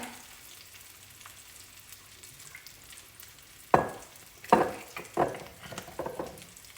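Panko-coated chicken fries in olive oil in a 12-inch pan, giving a soft continuous sizzle close by. Three sharp knocks or clatters stand out near the end. No one speaks.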